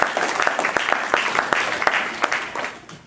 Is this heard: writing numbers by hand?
no